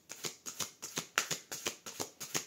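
A deck of tarot cards being cut and handled, giving about ten crisp, evenly spaced riffling snaps close by with no voices.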